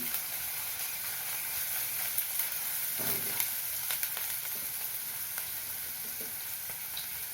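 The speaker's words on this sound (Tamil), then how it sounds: "மூணு மிளகா வெறும் அரிஞ்சு வச்சுருக்கேன் அதையும் போட்டு வதக்கலாம்" Sliced chillies and onion sauté in a pan for a snake gourd dal kootu, giving a steady, close frying hiss with a few soft stirring touches and no talking.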